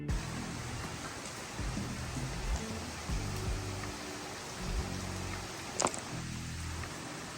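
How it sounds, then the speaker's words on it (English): Steady outdoor rain falls as a soft, continuous wash of noise, fairly faint, with a few louder drops and bumps. "Yeah, it is really raining."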